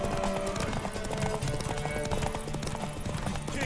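In The Witcher 3 video game, a horse's hooves clip-clop in a steady, close gallop, with a brief whinny mixed in over game ambience.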